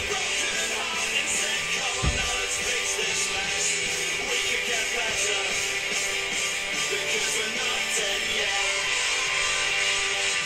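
Studio recording of a song, a loud, dense full-band rock track with steady drums, guitars and vocals playing continuously throughout.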